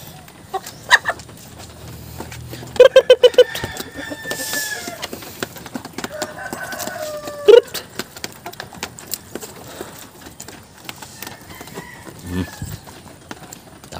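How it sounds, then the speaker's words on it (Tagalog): Backyard chickens of mixed breeds (Rhode Island Red, Black Australorp, Barred Plymouth Rock) at feeding time, with scattered clucks, a rooster crowing and several sharp taps and clatters, with faint talk in the background. "tapos na tayo magpakain ng ating mga manok"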